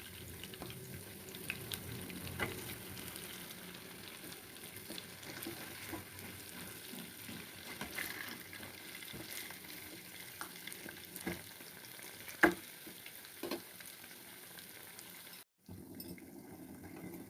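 Dahi vada lentil fritters deep-fry in hot oil, giving a faint, even bubbling sizzle that runs steadily throughout, with a few soft clinks and no talk.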